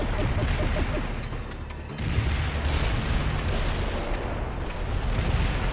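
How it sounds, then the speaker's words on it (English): Heavy artillery barrage in the war strategy game World in Conflict, a dense continuous rumble of overlapping blasts and crashing impacts that stays loud throughout with a brief dip near the two-second mark. "Heavy artillery barrage inbound."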